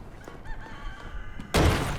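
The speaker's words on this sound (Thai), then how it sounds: "ไอ้ไก่นี่ก็ยังไม่ตายเนาะ" A chicken in the video game Resident Evil 4 Remake clucks in several short squawking bursts over low game ambience, then a loud broadband burst of game noise cuts in and covers it.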